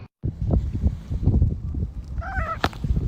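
A house cat meows indoors with short harmonic calls near the end, amid loud thumps and household clatter that fill most of the moment.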